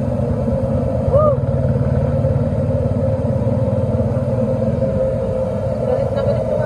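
A strong gas burner flame roars under a large batch of frying chicken, a loud, steady low rumble that continues unbroken for several seconds, with brief voices over it.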